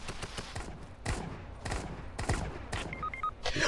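Rapid bursts of gunfire in an online multiplayer shooter game, dense volleys of shots with short pauses between, loud and close, with faint voices underneath.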